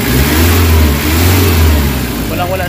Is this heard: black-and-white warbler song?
no